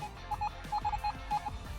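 Metal detector signal tones beep repeatedly while digging in a field, where an aluminium communist-era 20 grosz coin has just been found; the short, steady pitched beeps come in quick clusters of two or three over low digging noise.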